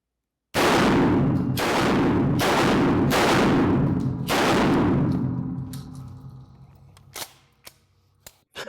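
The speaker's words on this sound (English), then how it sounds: "just mag dumping those 5 rounds into there" A 13-inch-barrel shotgun fires five rapid rounds of Panzer Defense double-aught buckshot at an outdoor range, loud close blasts in quick succession, each ringing out, then a fading echo and a few small clicks.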